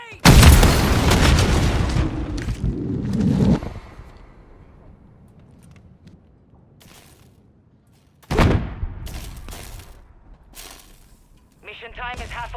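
A grenade blows up in the video game Modern Warfare III: a loud, booming blast opens, then fades into quiet. A second, shorter burst follows later, with brief game sound effects near the end.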